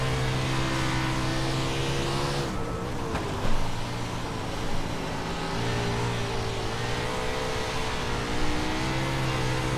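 A 410 winged sprint car on a dirt track in iRacing, its engine droning steadily with a loud buzzing tone that rises and falls as the throttle is worked, with brief dips and surges, no voices.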